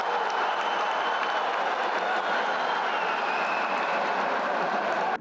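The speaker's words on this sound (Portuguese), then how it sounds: "A cada cesta nos minutos finais, a torcida ia ao delírio." A basketball crowd in an indoor arena roars loudly and continuously in the final minutes of a Franca versus Bauru game, a dense, sustained wall of cheering with no breaks.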